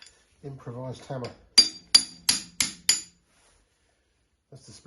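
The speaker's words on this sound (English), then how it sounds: "Improvised hammer." Improvised hammer tapping a split pin out of a Honda C90 centre stand, five sharp metallic knocks in quick succession, preceded by a short spoken voice and followed by a brief bit of speech.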